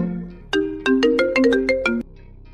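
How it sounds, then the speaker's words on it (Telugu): A phone rings with an incoming call, playing a bright melodic ringtone of rapid repeated tones that lasts about one and a half seconds. It is loud and clear against a quiet room. "ఫోన్ వస్తుంది,"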